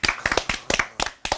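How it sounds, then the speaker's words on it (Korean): Studio hosts clap their hands in a quick, close burst of sharp claps. The claps come in small uneven clusters, with no talking over them. "박수 한번 치죠."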